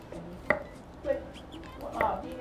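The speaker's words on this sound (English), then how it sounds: "I want to slice the zucchini" A knife slices zucchini on a board for a layered casserole, three distinct, firm chops spaced about half a second apart, close and clear over faint room noise.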